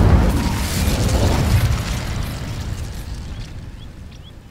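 Incendio fire spell in Hogwarts Legacy igniting dry vines, a loud whooshing burst of flame that starts with a full roar and then slowly fades into a softer crackling rush, with no talking over it.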